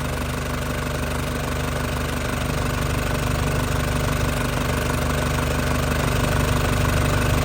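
Steady, even idle of a warmed-up 1999 Isuzu Panther engine, a continuous low rumble with faint knocking rhythm, close and loud with no voices.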